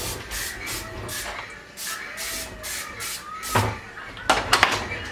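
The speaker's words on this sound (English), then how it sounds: "I'll spray this here while it's finishing warming up." Several short hissing bursts of cooking spray onto a heating waffle iron, close by, followed by a few louder sharper sprays near the end.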